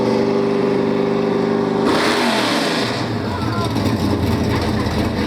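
An old car's engine revs hard through its loosening exhaust pipe, a loud sustained roar that climbs sharply in pitch partway through and then holds a raspy drone.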